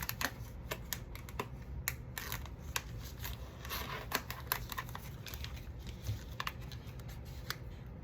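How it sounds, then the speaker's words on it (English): Scissors snip plastic repeatedly in quick, irregular crisp clicks, close by, with faint crinkling of material between cuts. "maybe let me use my other scissors."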